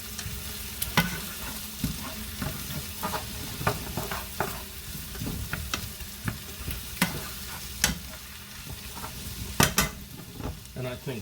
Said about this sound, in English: I'm going to give it just another quick stir because the garlic is starting to come through